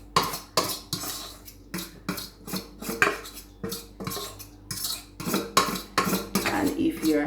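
A utensil scrapes and clatters against a bowl while grated sweet potato and yam go into a flour mixture for Jamaican sweet potato pudding, a close run of irregular clinks and scrapes with short pauses.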